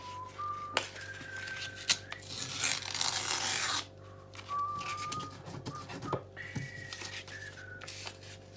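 A person whistles a few short, sustained tones with pauses between them, heard close over soft rasping and rubbing handling noises while refurbishing an old straight razor strop.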